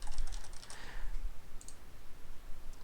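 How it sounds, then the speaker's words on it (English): Keys clack on a computer keyboard in a string of quick, irregular taps, fairly quiet and close, with no one talking. "so you guys can actually see my work instead of just hearing me clack on the keyboards"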